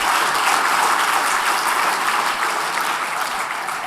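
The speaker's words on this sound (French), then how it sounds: "Et ce serait bien de l'applaudir aussi" Dense applause from an audience at an award ceremony, a continuous wash of many hands clapping at steady loudness that eases slightly toward the end.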